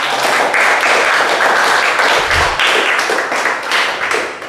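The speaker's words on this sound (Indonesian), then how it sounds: "Kita bisa tepuk tangan dulu untuk peserta" A classroom audience of teachers and participants claps together in a dense, continuous burst of applause, close and fairly loud, with a low thump partway through before it tapers off.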